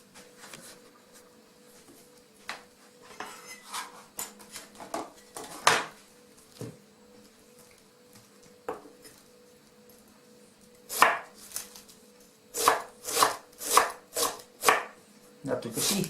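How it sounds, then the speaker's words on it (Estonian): Fresh cabbage is chopped with a knife on a board for soup, giving sharp, irregular thuds, sparse at first and then a quick rhythmic burst of close cuts near the end. "Ja siis ma tükeldan nüüd peale siia"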